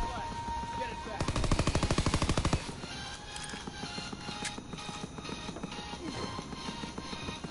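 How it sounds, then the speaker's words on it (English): Gunfire in a World War II shooter game: a rapid machine-gun burst of evenly spaced loud shots, followed by continued lighter rattling fire and clatter throughout. "What is still shooting me?"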